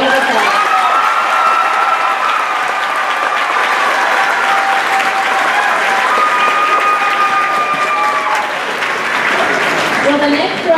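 A graduation crowd applauding students at a 2018 high school ceremony, sustained dense clapping with cheers and whistles throughout, loud and continuous, tailing off near the end.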